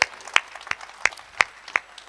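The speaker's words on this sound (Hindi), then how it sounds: "एक बार तालियां बजा दे" At a kavi sammelan in Ghaziabad, a small audience claps for a poetry recital: about six separate sharp claps spaced fairly evenly across two seconds, with quiet gaps between them.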